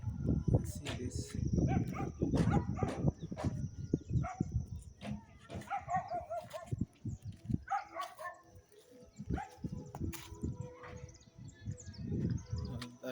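Small puppy barking repeatedly from behind a kitchen garden near a new chicken coop, short sharp yaps mixed with birdsong and people talking nearby.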